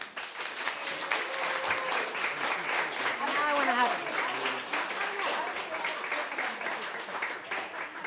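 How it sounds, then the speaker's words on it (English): A small live crowd at a brewery show applauds for Stephanie, the clapping sustained under someone talking over it. "Everybody give her a round of applause for Stephanie."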